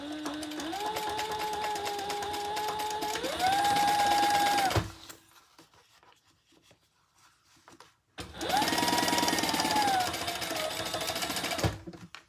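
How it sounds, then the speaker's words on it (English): Sewing machine stitching the sides of a fabric crossbody bag in two steady whirring runs with a brief pause between them, close and clear with no talk. "we're going to turn it right side up and stitch the sides closed"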